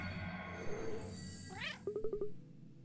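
A cartoon cat meows in the video game Cat Quest: a short rising chirp, then a quick run of four or five clipped meows, close and clear over a soft game music bed.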